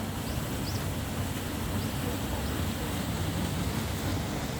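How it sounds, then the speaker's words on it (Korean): A steady, dense roar of rushing water, continuous and fairly loud without pause, from Yongmun Falls in Gaya-myeon, Hapcheon, South Korea, heard from nearby. "용문 폭포에 왔습니다."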